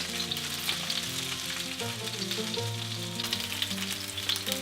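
Vegetables for ciambotta, including zucchini, fry in oil in a pan with a steady close sizzle and a low tonal hum running underneath, no one speaking.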